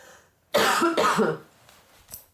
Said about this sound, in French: Pardon, je vais tousser.